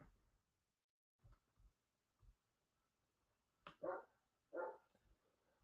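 A dog barks indoors a few times, faint at first, then two louder, closer barks near the end, with quiet thumps in between.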